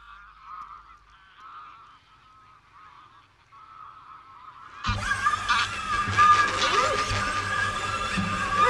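Geese honk faintly in the distance for a few seconds, then a much louder, broad wash of sound abruptly swells in over them.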